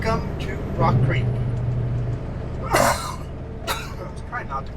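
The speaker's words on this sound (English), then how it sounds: "Let's try not to cough." A couple of sharp coughs burst out inside a truck cab while driving through Rockcreek in British Columbia, over a steady low engine drone and some voice.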